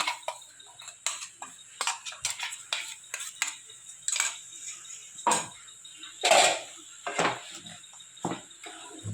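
Tomato chutney with mustard seeds and green chillies is stirred and sautéed in a pan, a spoon clinking and scraping against the metal in irregular close taps, with quiet sizzling between the strokes.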